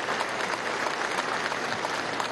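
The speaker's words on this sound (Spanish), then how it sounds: "Un aplauso caluroso de la clase obrera a la Fuerza Armada Nacional Bolivariana" A crowd of workers applauds the Bolivarian National Armed Forces at a CVG event in Guayana, a warm, dense and continuous burst of clapping from a large gathering.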